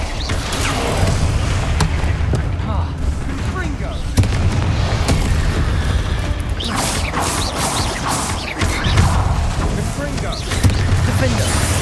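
Blasting spell explosions from the wizarding game Hogwarts Legacy, set in a catacomb: repeated loud booms and crashes over a dense battle din, with speech running throughout.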